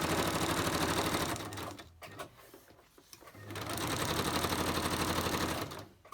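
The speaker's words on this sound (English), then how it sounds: "I might just quickly stitch around her." Sewing machine stitching around fabric, a steady fast mechanical whir that stops briefly in the middle and then resumes at the same pace before halting.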